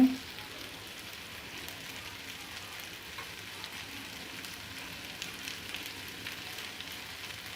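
Okra cooking with cumin powder and spices over low heat, a soft steady sizzle and faint frying crackle running evenly throughout at a low level, fairly quiet and close.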